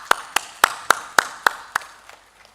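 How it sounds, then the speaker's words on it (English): A few spaced, sharp claps ring out at a state development event in Manipur, about seven distinct hits in slow, even rhythm that fade away toward the end, fairly faint in a reverberant hall. "I think one round of applause."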